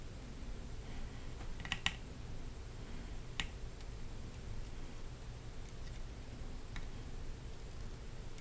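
Keys tap on a keyboard during a build, quiet scattered clicks with a few sharper presses over a steady low background hum.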